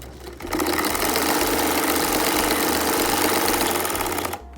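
A sewing machine runs steadily while stitching the side seam of ladies' trousers from hem up to the sleeve area, a continuous close whirring motor hum that starts after a brief pause and stops near the end.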